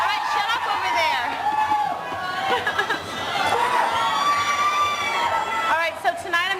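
A large crowd of around 1,500 people at a bedtime story pajama party screams, cheers and shouts continuously and loudly, with excited children's voices whooping over the din.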